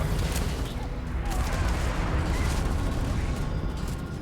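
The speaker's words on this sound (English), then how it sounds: "apparently shooting him there exploded him" Gunfire in the sci-fi video game Starfield, a dense, continuous barrage of shots and booms filling the whole stretch at high volume.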